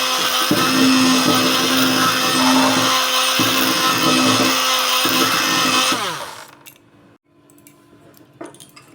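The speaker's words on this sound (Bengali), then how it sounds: "এবার আমি একটু হ্যান্ড ব্লেন্ডার দিয়ে একটু ভালো করে এটাকে মিশিয়ে নেব।" A hand blender whirs loud and steady through a bowl of sugar and butter for a vanilla cake, its motor pulsing slightly before it cuts off, leaving faint kitchen clatter.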